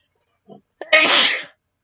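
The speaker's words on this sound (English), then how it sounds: "Now, I'm going to sneeze." A single sharp sneeze, preceded by a short intake of breath, close and loud, then quiet.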